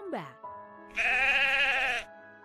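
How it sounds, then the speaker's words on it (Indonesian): A mountain sheep gives a loud, sustained bleat lasting about a second, close and clear, preceded by a shorter falling vocal sound. "Ini domba gunung"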